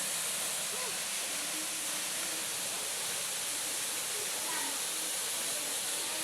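Strong water rushes continuously at a jungle swimming spot beneath a waterfall, a loud, dense, unbroken roar that fills the whole stretch, with faint voices barely showing beneath it.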